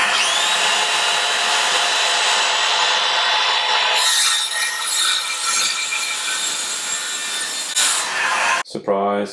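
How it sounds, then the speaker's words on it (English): Circular saw guided by a homemade jig cross cutting wood for apartment shed flooring: a loud, continuous high motor whine with gritty rasping through the cut, ending in an abrupt stop and a few clunks. "Why not use the jig that I built and the circular saw?"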